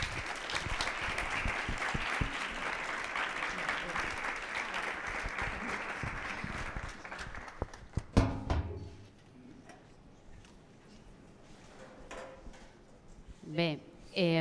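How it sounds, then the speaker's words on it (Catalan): An audience at a rural women artists' presentation event in Terres de l'Ebre gives a loud, dense round of applause for about eight seconds. It then cuts off abruptly, leaving scattered claps and faint room noise. "Moltíssimes gràcies, un fort aplaudiment."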